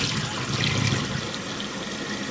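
Cold tap water runs steadily over potatoes being washed in a kitchen sink, a continuous close splashing rush with no talk.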